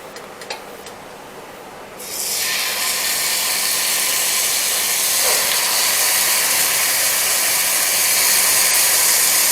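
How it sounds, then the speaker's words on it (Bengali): Marinated chicken with Mexican seasoning and carrot go into a butter-brushed pan, a quiet moment broken by a sudden loud, sustained sizzling hiss that holds steady to the end. "এখন এতে আমরা আমাদের ম্যারিনেট করা চিকেন এবং ক্যারট দিয়ে দেব।"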